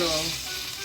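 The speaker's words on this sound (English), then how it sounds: "I'm just heating these up on the stove." Food sizzles steadily in a pan as it heats on a stove, a close, continuous bright frying hiss with no pauses.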